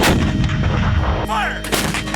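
Shotguns fire at geese on a Colorado goose hunt, loud close blasts filling the first second and a quarter, then a brief lull and another sharp report near the end.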